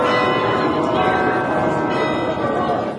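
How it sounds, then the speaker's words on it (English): Church bells peal from steeples in a continuous, layered ringing that sustains at a fairly loud level throughout. "to hear the merry bells peal out from the church steeples."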